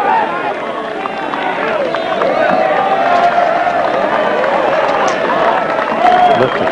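A golf gallery at the Australian Open at The Grand Golf Club cheers and shouts around the green after a 4 iron shot, a loud, sustained crowd roar with whoops, under a commentator's talk.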